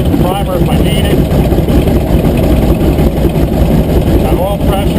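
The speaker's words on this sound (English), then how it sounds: "Got oil pressure. The engine's bogging down a little bit" A North American AT-6 aircraft engine idles roughly just after starting, a loud, dense, uneven rumble that holds steady throughout, with a voice talking briefly over it.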